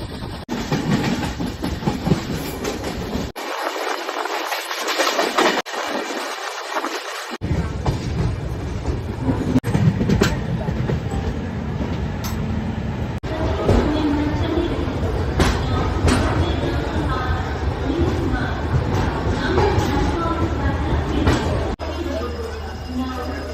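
A train rumbles steadily along the tracks with rhythmic clacking and wind noise, loud and close throughout.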